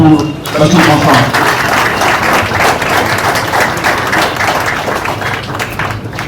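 Audience applause at a Kimbanguist centenary ceremony, loud continuous clapping from a large crowd close by, sustained throughout with a slight fade near the end.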